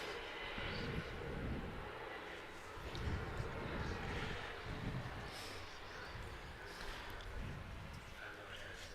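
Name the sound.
Virgin Orbit Cosmic Girl jet landing, reverse thrust roar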